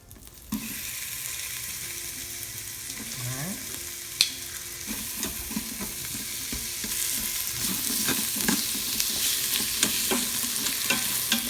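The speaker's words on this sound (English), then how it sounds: "and in go our onions." Chopped onions hitting hot oil in a pan while cooking a pot roast, giving a steady, close, loud sizzle throughout with scattered clicks and scrapes from stirring.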